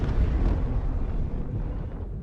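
An Abrade scraper salvaging tool in a video game roars continuously, a loud, harsh, rumbling blast of noise that holds steady for a couple of seconds and thins slightly toward the end.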